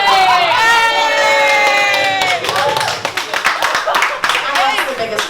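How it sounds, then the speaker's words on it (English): A comedy club audience bursts into loud, close cheering and whooping, and the noise then settles into scattered clapping with shouts and chatter mixed in. "that's the biggest applause I've had"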